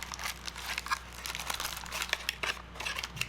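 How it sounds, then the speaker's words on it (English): Crinkly plastic wrap peeled and crumpled off a Logitech Brio 4K webcam, a close run of rustling crackles and small tearing bursts lasting a few seconds. "take the plastic off of it"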